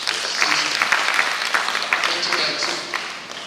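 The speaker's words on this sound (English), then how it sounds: "This is a round of applause." An audience at an event in Nigeria gives a round of applause, with brisk clapping and scattered louder claps for a few seconds.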